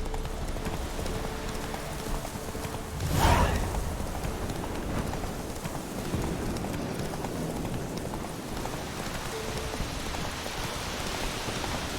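Roach the horse galloping in The Witcher 3, with steady rhythmic hoofbeats over a continuous rain-like wash and one brief louder thump early on, no talk.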